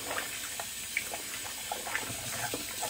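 A tap runs steadily into a sink to wash out a shaving brush, with soft splashes and drips sounding close and fairly faint throughout.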